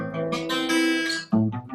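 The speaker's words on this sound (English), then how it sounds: "That's an add 9 arpeggio." Guitar notes of an add 9 chord ring out one after another as a jazzy, bossa nova–flavoured arpeggio, clear and close, with a fresh note struck near the end.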